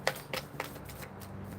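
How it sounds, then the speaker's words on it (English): Tarot cards shuffled by hand during a reading, a quick series of soft papery riffling bursts, close and fairly quiet, with no voice. "Let's keep shuffling"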